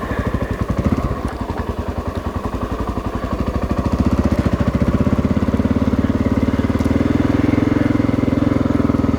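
A 1995 Honda XR600R motorcycle engine running close by, a rapid thumping single-cylinder pulse that builds into a louder, steadier drone partway through, with no talking.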